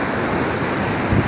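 Sea waves wash steadily onto the shore in a continuous broadband roar, close and loud, with some wind noise and no voices.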